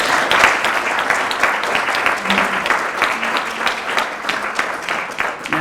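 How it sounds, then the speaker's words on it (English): A dinner audience at a Lions Club charter event applauds warmly for an honoree, with steady, dense clapping from a sizable room that fills the whole stretch at a loud, even level. "another round of applause for Dave Heller"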